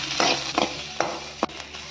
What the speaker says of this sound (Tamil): இதை நல்லா பொன் வறுவலாக வறுத்து எடுத்துக்கலாம்